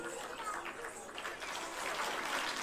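An audience applauding to welcome performers at a song and dance gathering, a steady, fairly faint patter of clapping that swells slightly toward the end, with a voice heard over it.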